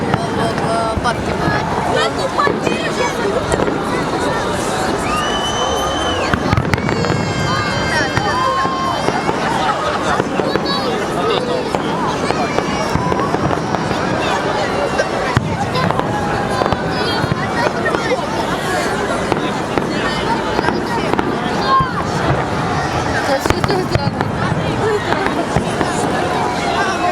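Victory Day fireworks salute over Tula on May 9, booming and crackling steadily throughout amid a dense, noisy crowd, with people talking nearby the whole time.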